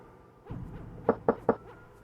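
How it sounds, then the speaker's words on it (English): Knocks on a locked door in the VGA adventure game Quest for Glory 2: a few soft taps, then three evenly spaced, hollow, fairly loud raps with no talk. "The door is locked tight, and the sound of your knocks echoes hollowly through the hallways without response."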